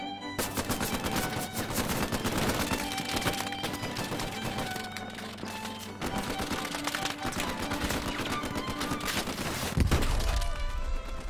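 Dense, continuous gunfire and machine-gun bursts from a trench battle in a video game, loud and sustained throughout with a heavier thump near the end.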